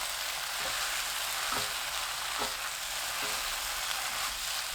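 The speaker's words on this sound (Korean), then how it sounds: "2분 후 청경채 넣고 센 불로 켜서 1분 볶아주세요" Bok choy and king oyster mushrooms stir-frying over high heat in a pan, a dense, even hiss of sizzling oil with a few faint scraping stirs, steady and unvoiced.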